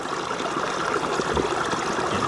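Hot spring water from underground flows steadily nearby at Camp Silva in Laguna, a continuous broadband rush like a small stream or spring outflow, with no talking.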